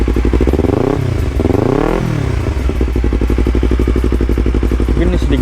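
A Yamaha R25 or Kawasaki Ninja 250 FI engine runs loud and close, rising and falling through a couple of short throttle blips before settling into a steady, rapid idle.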